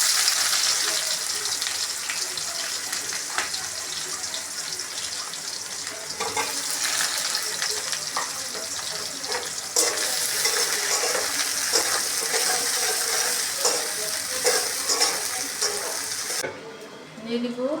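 Chopped onions and a spice paste with nigella and radhuni seeds fry in hot oil for a mustard-oil fish curry, a dense, continuous sizzle with frequent spatula scrapes and clinks, close and fairly loud throughout.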